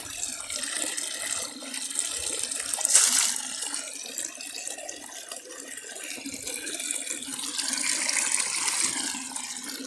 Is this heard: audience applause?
no